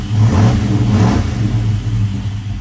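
A 1985 Chevy C10 engine with throttle-body EFI revs up under throttle, a loud, steady mid-pitched roar that swells and holds close by for a couple of seconds without speech.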